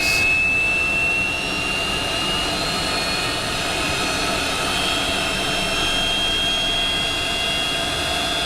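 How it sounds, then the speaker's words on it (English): Boeing 727 engine number 2 spooling up during a start sequence in a flight simulator, a steady loud jet whine with a high tonal hum over broadband rumble, continuous throughout. "Start engine number 2. Okay. Turning number 2."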